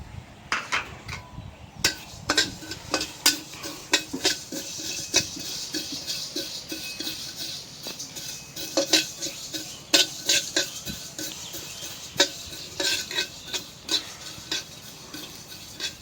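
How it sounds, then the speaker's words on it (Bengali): Black cumin (nigella) seeds dry-roasting in a wok, with a steady run of sharp, close clicks and scrapes of a spatula against the metal, repeating unevenly throughout. "প্রথমে আমি কিছু কালো জিরা শুকনা কড়াইতে ভাইজা নিই।"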